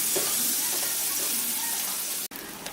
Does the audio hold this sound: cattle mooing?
no